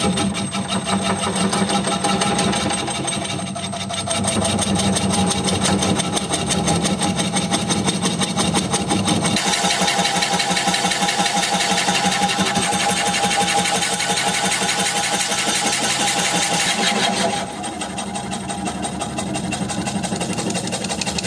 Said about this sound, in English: So I'm going to have the lathe spinning at about 350 RPM.